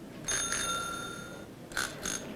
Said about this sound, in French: Est-ce que les sonnettes fonctionnent bien?